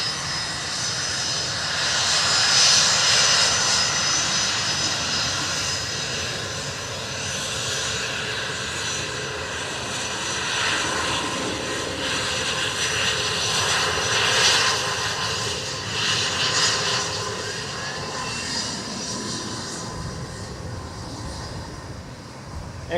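A jet airliner takes off from runway 10 right at Dublin Airport, its engines roaring steadily and loudly throughout with a broad sustained rumble and whine heard from a distance.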